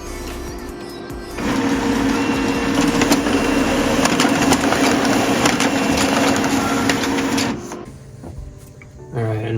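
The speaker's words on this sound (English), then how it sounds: "And next we're going to print the network configuration page." An HP LaserJet Pro 4001n laser printer runs a print job for its configuration pages, a steady mechanical whir and rolling feed hum lasting several seconds, starting abruptly and then winding down to quieter clicks.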